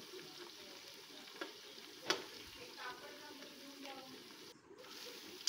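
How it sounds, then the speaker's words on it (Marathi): Onions frying in oil for masala rice, a soft steady sizzle with occasional stirring clicks and scrapes, fairly faint, no speech. "अशा प्रकारे आपण छान असं या तेलामध्ये कांद्यांना भाजून घ्यायचं आहे"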